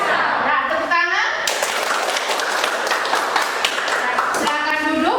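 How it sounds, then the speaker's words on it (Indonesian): A class of vocational high school students bursts into dense, lively applause for about three seconds, with a voice speaking before and after the clapping. "Nah, tepuk tangan."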